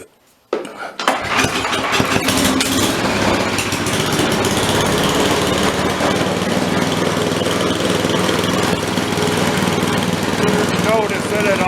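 Ariens ST 828 snowblower engine, still cold-blooded and needing priming, catches after a brief silence and settles into a loud, steady, close-up running idle with a rough mechanical clatter, no talk over it.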